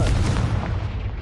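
The Confringo blasting spell exploding in Hogwarts Legacy, one loud booming burst with a deep rumble that decays over about a second.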